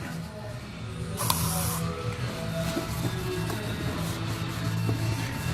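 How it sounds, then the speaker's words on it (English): Bug spray hisses in a short, sharp burst onto a car headlight. A steady background hum continues afterward. "they tell us that we can just spray it on there and let it sit and wipe it"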